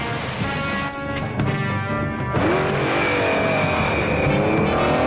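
Flying car from the 1978 Japanese Spider-Man film, a steady loud roaring engine with a rising whine and a shift partway through, dense and continuous over film music or effects.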